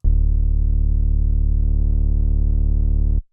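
A steady synthesizer sine-wave tone with a layered harmonic an octave below, held loud and unbroken for about three seconds before cutting off, with no voices.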